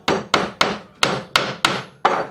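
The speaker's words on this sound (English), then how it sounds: "And I'll get my nails started. I always want to start 2 nails." Seven sharp, evenly spaced hammer blows drive 6D coated sinker nails into lumber while building ten-frame honey supers, each strike loud and close with a short ringing decay, no voices.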